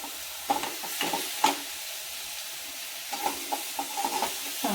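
Potato and vegetable mixture being sautéed and stirred in a pan, with soft sizzling and scattered spatula scrapes and clinks that come in short bursts, close and fairly quiet.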